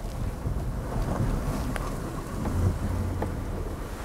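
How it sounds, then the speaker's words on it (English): Cold wind blows steadily outdoors in a small Karoo town at the foot of the Sneeuberg Mountains, a continuous rough buffeting rumble across the mic with no one talking. "this wind is freezing"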